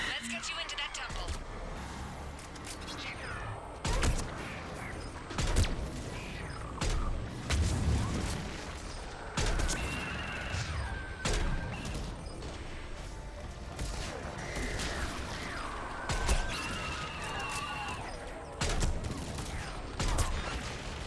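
Missile strikes and gunfire in the video game Mass Effect 3 pound in repeated booming impacts and crackling bursts, spaced every few seconds under ongoing in-game voices and battle noise.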